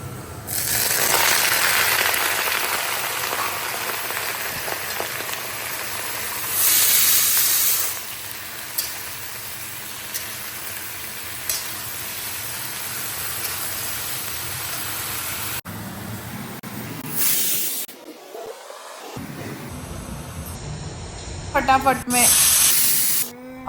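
Eggplant tipped into a hot pan of ginger and garlic, giving a loud, steady hiss and sizzle that runs for a long stretch, then breaks into clatter and stirring noises near the end.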